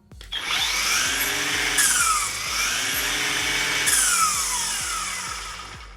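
An EGO 56V multi tool trimmer power head runs at speed 2, spinning up from silence into a loud, close whine with a wavering, pulsing pitch held for several seconds, no talking.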